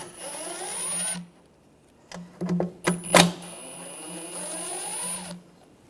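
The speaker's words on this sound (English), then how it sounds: "Take these screws out." A power driver with a T25 socket whines in two sustained bursts while backing screws out of a 2009-2013 BMW 328i xDrive 3.0L inline-six intake manifold, with sharp clicks and clanks of tool and parts between the bursts.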